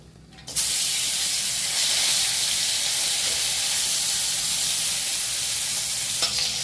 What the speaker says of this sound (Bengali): মাছগুলো একইভাবে ভেজে নেব